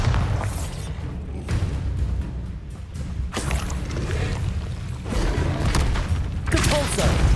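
In the Hogwarts Legacy video game, Bombarda spells set off heavy booming blasts, several thumping explosions landing over a constant low combat rumble, with a voice calling out spell names at points.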